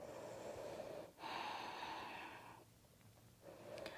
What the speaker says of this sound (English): Breathe here.